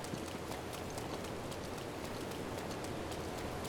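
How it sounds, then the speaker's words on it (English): Steady rain falls in the Breath of the Wild video game during a Master Mode run, a dense even hiss of drops on surfaces filling the whole stretch with no talk over it. "I'm gonna wait the rain out"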